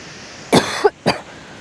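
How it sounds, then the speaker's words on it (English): A person coughs up close on a shingle beach while fishing at dawn, two sharp harsh bursts about half a second apart, with a small throaty catch between them. "I'm going to cough."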